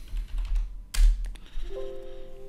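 Keys tapped on a computer keyboard: a few close, sharp clicks, one louder strike near the middle, then a steady electronic tone rises beneath a low background hum, with no talking.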